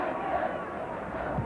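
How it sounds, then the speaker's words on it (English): A football stadium crowd cheering for Newcastle United in a 1969 Inter-Cities Fairs Cup Final against Ujpest Dozsa, a steady distant roar of massed voices under a commentator's voice. "Crowd trying to lift Newcastle"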